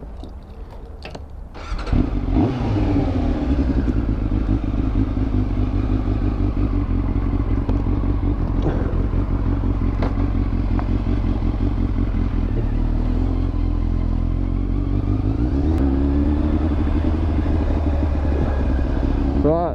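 A big motorcycle's engine starts after a brief clatter, then runs at a loud, steady, rumbling idle close by for the rest of the stretch.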